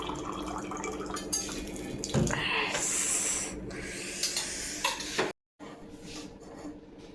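Water is mixed into a drink in a vessel, with scraping, clinking and sloshing sounds close by, including a louder burst of pouring or stirring, then a brief silence before quieter handling noises.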